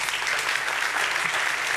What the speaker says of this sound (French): on peut déjà les applaudir.